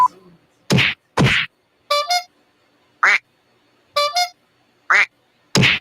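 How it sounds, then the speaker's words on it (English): A squeezed rubber duck honks like a horn, with about seven short, loud squeaky bursts at irregular intervals separated by silence. "Sounds like a horn and you're trying to beat the hell out of a rubber duck."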